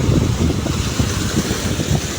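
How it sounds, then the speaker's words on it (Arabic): High sea waves surging onto Marsa Matruh beach, a loud continuous rush of surf blended with heavy wind buffeting close to the microphone. "بصوا ارتفاع الموج عامل ازاي"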